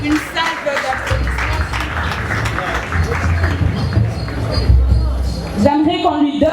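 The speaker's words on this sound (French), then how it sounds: "Une salve d'applaudissements" An audience at a school sewing-workshop inauguration gives a dense round of applause that fills the space, a continuous crowd clapping with a murmur of voices beneath and talk breaking in near the end.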